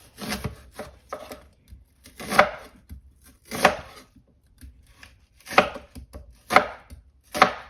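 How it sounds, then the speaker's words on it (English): A knife chops an onion lengthwise into large chunks on a board for veggie fajitas: sharp, close, irregular chops in small clusters with short pauses between. "you're going to go ahead and cut the onion into larger chunks lengthwise as well"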